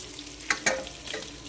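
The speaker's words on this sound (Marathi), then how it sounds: "इथे माझी मच्छी फ्राय चालू आहे, म्हणजे पापलेट फ्राय" Pomfret fish frying in a pan at home, a low steady sizzle with a few sharp spits and crackles, close and alone.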